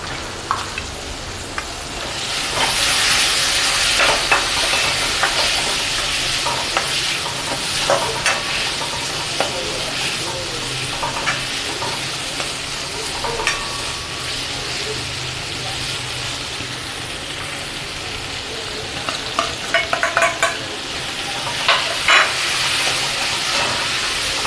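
Mung beans tossed into a hot pan for a dry Gujarati mung-and-potato dish, frying with a steady loud sizzle and hiss while a spoon scrapes and stirs in irregular strokes throughout.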